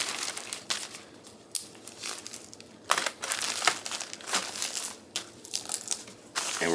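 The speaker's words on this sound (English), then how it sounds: "we're going to crush that up into a nice fine powder" Freeze-dried croutons are crushed inside a Ziploc bag, close crunching and crinkling plastic in irregular bursts of squeezing and pressing, no talking.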